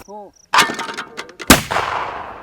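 A black powder musket fires at steel gongs outdoors, giving a heavy boom followed by a second loud crack and a ringing, decaying tail, after a brief high tone at the start.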